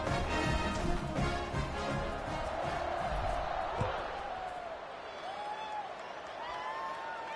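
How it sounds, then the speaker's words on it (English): A stadium crowd at a college football game rumbles with a broad, sustained roar that slowly fades, with a commentator's voice audible above it. "this crowd is buzzing after that last score"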